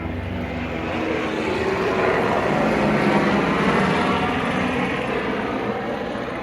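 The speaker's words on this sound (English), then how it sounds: "Jesus, a loud helicopter." A loud helicopter passes overhead, a continuous broad rotor and engine roar that swells toward the middle and stays strong throughout, heard outdoors with no talking.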